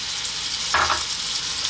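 Chopped onion sizzling in olive oil in a pan, a steady hiss with a brief louder burst of frying partway through as the pieces are stirred, close and alone without talk.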